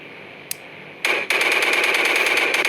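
Video-game gunfire in Indian Bikes Driving 3D blasts an alien UFO: a single sharp crack, then a rapid, loud burst of automatic shots that keeps going.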